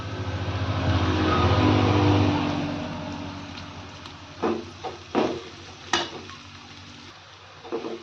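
Peanut powder stirred into a fried green chili stir-fry in a pan, a steady sizzle swelling then fading, followed by several distinct scraping stirs of a spatula, close and clear with no talk.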